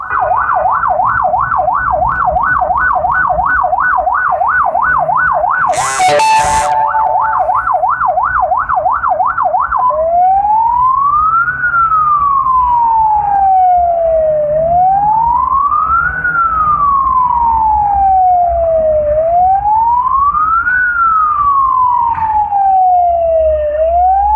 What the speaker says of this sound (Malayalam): സൈറൻ കേട്ടിട്ടും ആംബുലൻസിന് വഴിമാറാൻ കാർ യാത്രികൻ തയ്യാറായില്ലെന്ന് ആംബുലൻസ് ഡ്രൈവർ മുസ്തഫ പറഞ്ഞു